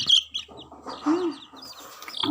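Kadaknath and native chicken chicks chirp and cluck in short, high calls scattered through a brief stretch, close by, with a soft lower murmur in the middle and no talking.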